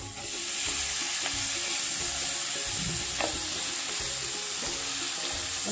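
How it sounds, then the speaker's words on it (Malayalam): Chopped tomatoes frying in a pan of spiced masala with fenugreek powder, a steady loud sizzle with occasional scrapes and clinks of stirring throughout, no voices. "ഇനി ഇതിലേക്ക് നമ്മൾ അരിഞ്ഞു വെച്ചേക്കണ തക്കാളിയാണ് ഇടുന്നത്."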